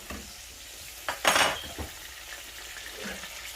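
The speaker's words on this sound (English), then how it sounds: "Just putting our garlic in." Garlic dropped into hot oil in a pan for spaghetti alla puttanesca, a sharp burst of close sizzling with clinks of a utensil against the pan, then a softer steady fry.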